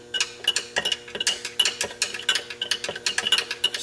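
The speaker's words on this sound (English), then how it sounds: "spin my impeller and just make sure it's turning it freely" An AquaHot fuel pump impeller spun by hand gives a quick run of light mechanical clicks and rattles, a steady ticking rhythm repeating close by with no talk.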